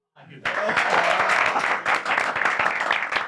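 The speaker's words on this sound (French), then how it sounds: "On t'applaudit quand tu entres." Applause breaks out as someone enters the room, a dense burst of clapping that starts abruptly and stays steady and loud, with voices mixed in.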